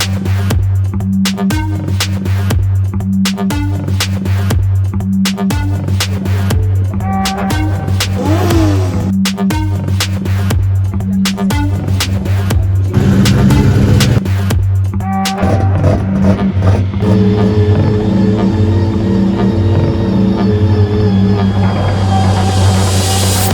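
A car engine idles and revs with throbbing low rumble and repeated sharp mechanical clicks, then a smoother engine tone rises toward the end, heard close and loud at the Goodwood Festival of Speed.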